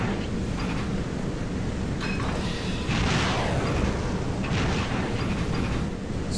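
A salvo of two missiles launching in the Sea Power naval game, a sustained roaring rush with a couple of surging whooshes, loud and continuous, no talking.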